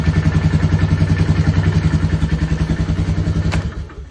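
A small cold Kawasaki engine running on choke, a loud steady rapid chugging pulse close by that holds for about three and a half seconds, then cuts off and fades out.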